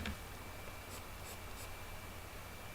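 Colored pencil flicked in short feathery strokes across paper to render a fabric texture, a faint soft scratching with a few gentle brushing swishes, quiet and close, ending in a small sharp tap.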